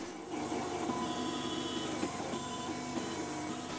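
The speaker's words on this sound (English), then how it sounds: "Placing a block of porcelain into the milling machine, this little object will be manufactured." A CEREC dental milling machine cuts a porcelain block with diamond burrs, producing a steady, dense mechanical whir and grind at a moderate level that holds unchanged throughout, with no speech.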